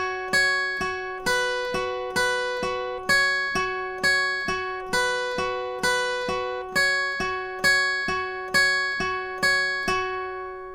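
Electric guitar playing the second line of a song, a steady repeating picking pattern around the 9th and 7th positions, with evenly spaced plucked notes ringing clearly and alone.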